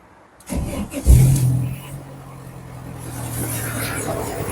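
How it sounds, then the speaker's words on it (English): A VW Lupo car engine cranks and catches, roaring up loudly before settling into a steady idle hum close by. "The engine starts."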